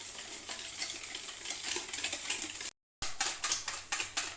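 Milk being stirred into a creamy fruit chaat, a steady wet sloshing and spoon clatter against the bowl with a brief dropout before the mixing resumes in quick rhythmic strokes.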